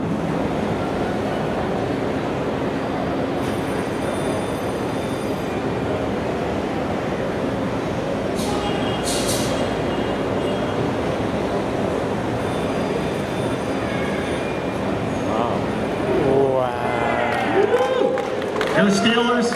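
The S&S Steel Curtain roller coaster train for Kennywood moves on the IAAPA Expo 2018 show floor as a steady, loud mechanical rumble, with crowd chatter and some higher squeals near the end.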